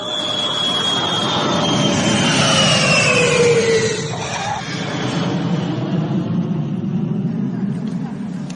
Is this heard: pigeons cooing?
no